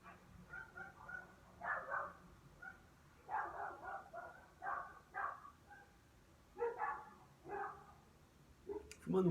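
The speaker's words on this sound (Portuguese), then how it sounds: "Esse cachorro latindo aí" A dog barks repeatedly in short irregular bursts, faint and somewhat distant, against a quiet background.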